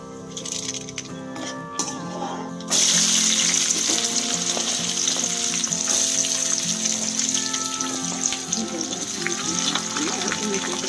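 Onions hitting hot oil for a chitranna, a quiet pan that suddenly bursts into a loud, close, continuous sizzle, with faint clinks of utensils and no speech.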